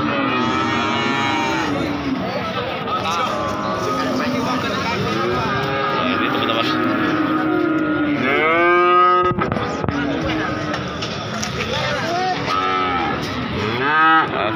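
Cattle and young heifer calves at a busy livestock market moo repeatedly over a dense crowd din, with people talking throughout.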